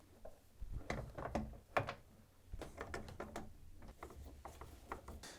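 Door and hinge being refitted on a Hoover tumble dryer: a quiet series of close clicks, clunks and scraping handling noises, irregular and soft, with no talk.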